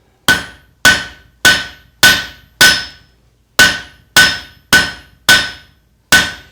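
Hot steel tent stake hammered on the edge of an anvil, ten loud ringing metallic strikes in a steady rhythm with a brief pause midway, each blow decaying quickly, no voices.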